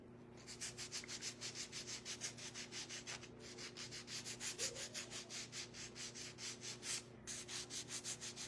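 A painted wooden craft piece being sanded by hand, heard as quick rhythmic back-and-forth rasping strokes, close and fairly quiet, with a low steady hum underneath.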